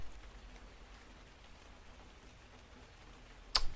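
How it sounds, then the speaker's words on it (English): Steady rain in the survival game Cataclysm DDA, a soft even patter throughout, ending in a brief sharp noise. "The rain's not helping my visibility much."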